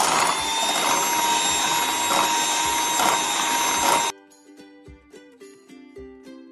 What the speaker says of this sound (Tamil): சுகர் வந்து கொஞ்சம் கொஞ்சமாக சேர்த்து அரைச்சிக்கோங்க.